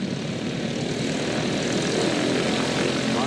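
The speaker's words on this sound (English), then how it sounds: "Here comes the airplane." Vintage propeller airplane flying past at an air show, a steady loud engine drone that swells slightly as it passes close by, heard alone without talk.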